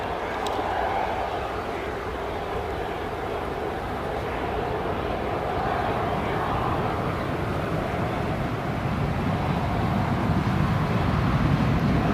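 A KLM airliner at Newcastle International Airport gives a continuous, loud, broad engine roar that holds steady and swells slightly toward the end, with no clear break or pause.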